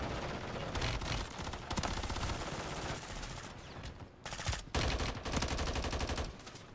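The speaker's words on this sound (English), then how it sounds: "It was nothing but gunfire" Dense, continuous automatic gunfire and overlapping bursts from a Call of Duty match, loud and chaotic throughout with brief dips around the fourth second before the firing resumes at full intensity.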